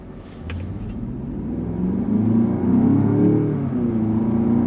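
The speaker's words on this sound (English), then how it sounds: "It's got a nice quiet experience besides the V8 sound, which is what you want." A 2025 Land Rover Defender Octa's V8 engine revs steadily and builds from inside the cabin, a loud continuous low rumble that rises in pitch and holds, with no voices over it.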